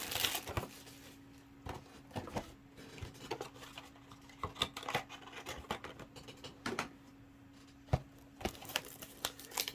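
Plastic wrappers of trading card packs from a mega box crinkle and tear close by in quick, uneven bursts of rustling and crackling, with no talking.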